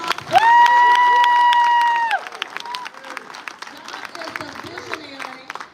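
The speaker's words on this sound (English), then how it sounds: "Let's give him a round of applause." Audience applause at a financial wellness symposium, a burst of clapping and cheering from a crowd that starts loud beneath a sustained tone, then thins into scattered claps and murmurs.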